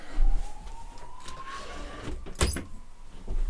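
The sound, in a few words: ambulance siren passing outside an open window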